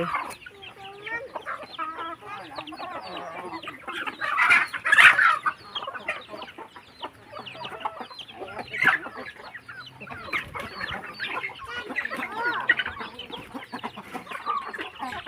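Chickens on a rural farm in northeastern Thailand cluck and squawk close by, with repeated bursts of fowl calls rising and falling over a busy barnyard background.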